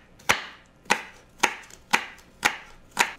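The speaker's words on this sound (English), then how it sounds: "Cut up an apple or two into small cubes and mix it into your slaw." A knife chops an apple into small cubes on a cutting board, giving six evenly spaced, sharp, close thuds about half a second apart, with nothing else heard between them.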